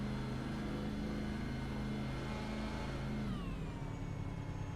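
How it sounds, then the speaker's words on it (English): A race car engine at Five Flags Speedway drones at a steady pitch under a night race, then drops and winds down as the driver shuts it off to save fuel, loud and close from an onboard camera. "Can we hear Jonathan Jennings shutting that car off, trying to save as much fuel as he can"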